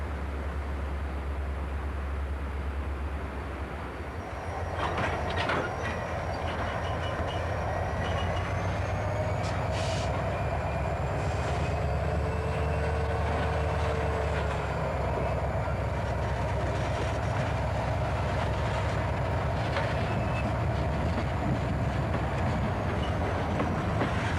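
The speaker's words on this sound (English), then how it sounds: "The Cascade crew will pull their locomotives on the siding." Idaho Northern and Pacific locomotives on the Cascade Branch idle and rumble with a low steady engine drone while pulling onto a siding, faint squeals and clanks rising above the continuous noise.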